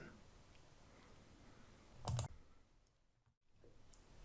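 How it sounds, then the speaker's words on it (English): A single sharp computer mouse click sounds once in a quiet room, with faint background hiss before and after. "end the wizard by clicking on the Finish button"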